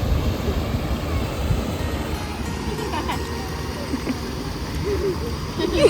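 A mountain stream flows steadily along a nature walking trail in Almaty, its broad continuous rush of water filling the background without pause, with faint activity nearby.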